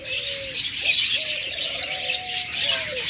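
A pair of lovebirds chirping close by, a busy run of quick high twittering calls over a soft lower whistling tone, steady throughout with no one talking.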